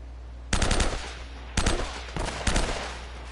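Gunfire in Uncharted lands in three loud, close bursts of rapid shots, each decaying briefly over a steady low background rumble.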